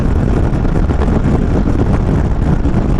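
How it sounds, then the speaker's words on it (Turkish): Wind blasting against a rider's helmet on a Suzuki Burgman 200 scooter, deflected onto the helmet by the front windscreen: a loud, steady, close roar of buffeting air with no voices. "şu ön tur camının gördüğünüz gibi tam kaskının üzerine çarpıyor rüzgar"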